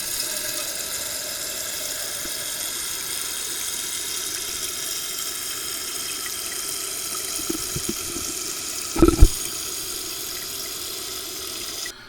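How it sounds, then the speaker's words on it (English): A toilet tank and bowl refill through a new float valve with a steady soft hiss of running water, then a brief louder knock or clunk near the end as the flow settles. "that is filling the bowl and the tank"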